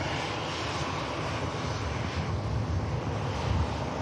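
An EasyJet airliner's jet engines roar steadily at Manchester Airport as it lines up, a broad, continuous rumble heard close and loud with no talk.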